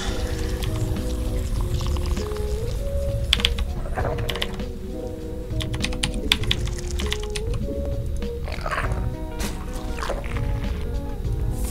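Loud computer keyboard typing during a StarCraft 2 ladder match, with quick bursts of clacking keystrokes over steady game sound and music, close and persistent throughout.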